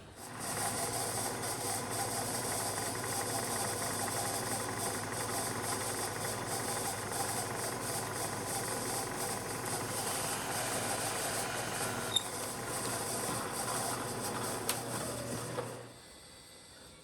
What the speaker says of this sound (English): I have a 1/2 inch end mill here, and I'm going to just plunge into the plastic.